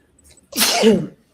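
A single sharp sneeze, close and loud, preceded by a brief soft intake of breath.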